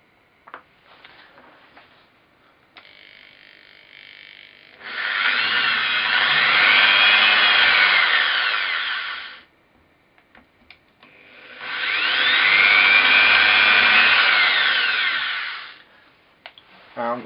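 A 2.5 mm wood drill bit boring through knife handle material for a Scandinavian-style knife, two loud sustained drilling bursts of about four seconds each, separated by quiet handling noises.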